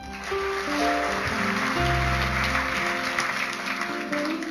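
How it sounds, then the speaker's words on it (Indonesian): Church congregation applauding after a sung hymn during a service, a sustained wash of clapping under lingering organ or keyboard chords, fairly loud and continuous. "Beri tepuk tangan."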